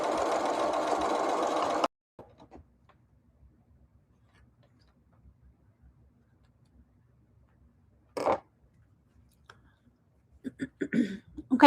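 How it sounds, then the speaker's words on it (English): A home sewing machine runs in a steady, loud whirring burst for about two seconds while stitching fabric, then stops, leaving quiet handling clicks and a few brief rustles. "Let's see, and let's sew another one."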